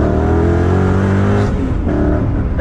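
A Corvette ZR1 engine revs hard at around 4,000 RPM, a loud sustained roar that holds steady, then briefly dips and picks back up near the end.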